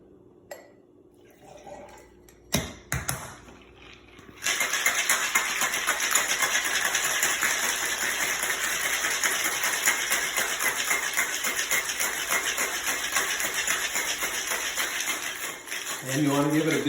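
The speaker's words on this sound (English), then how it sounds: "And then we're just going to shake it up." An espresso martini made with cold brew coffee is shaken hard in a cocktail shaker. A few brief clinks come first, then a long, loud, continuous rattle runs for about twelve seconds.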